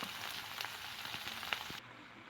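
Vegetables with baby corn and cabbage frying in a pan for homemade chow mein, giving a steady close sizzle with scattered pops and crackles and no talking.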